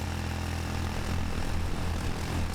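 Drone taking off in a military video game, a steady propeller-like engine drone humming continuously at moderate level without talk.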